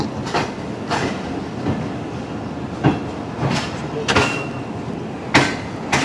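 A train pulling into Attock station on a historical safari run from Rawalpindi, wheels clacking over rail joints in an irregular series of sharp knocks above a steady rumble, close and loud.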